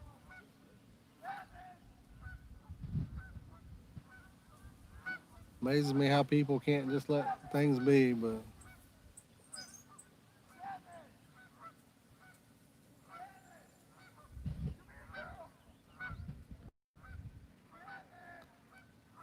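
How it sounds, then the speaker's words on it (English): Geese honk at Summit Lake, a loud burst of repeated honks midway through, with scattered quieter calls and nearby talk before and after. "I think they've got a dog that's over there chasing the geese now."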